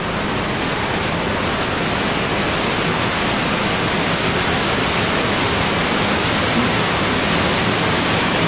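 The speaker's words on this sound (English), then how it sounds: "that is what a physicist would call white noise" A continuous, even rush of broadband hiss, white noise that stays loud and unchanging throughout with nothing else present.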